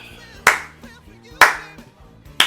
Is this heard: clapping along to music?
yes